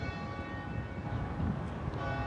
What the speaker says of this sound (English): You hear the bells?